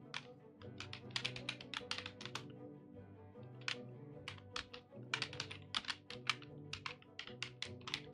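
Typing on a computer keyboard in quick irregular bursts of crisp clicking key taps, close and fairly quiet, with short pauses between runs and no talking.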